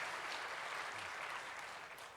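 A church congregation applauds in welcome of visiting guests at a military mission dedication service, a steady, soft wash of clapping that holds evenly throughout with no voices over it.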